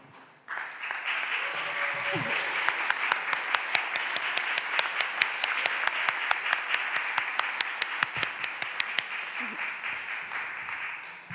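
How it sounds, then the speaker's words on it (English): Warm applause from a modest crowd in a city council chamber, steady clapping for several seconds before tapering off, with faint murmurs underneath. "Give him a round of applause."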